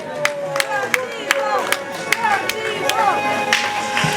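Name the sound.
wedding guests applauding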